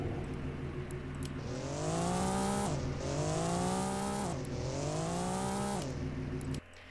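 An Acura car engine in the video game Drive World revs hard in rising sweeps, dropping back between each of three long pulls, then cuts off abruptly. Loud and close, with no talking.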